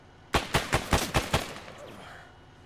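Burst of six sharp rifle shots in an Arma military video game battle, evenly spaced in quick succession, loud and close, then fading into quiet ambience.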